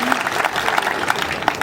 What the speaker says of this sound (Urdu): ذرا سب کے لیے تالیاں ایک بار دو